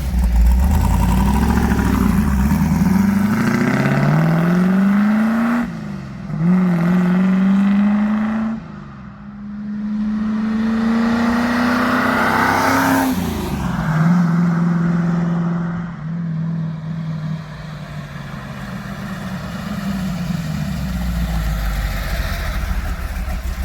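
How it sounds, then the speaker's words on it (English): A V8 engine in a converted car revs up and settles back to idle several times, a loud, close, rising and falling roar with steady idling between pulls and no talk. "Drives nicely, idle's alright, still got to get down to the dyno though"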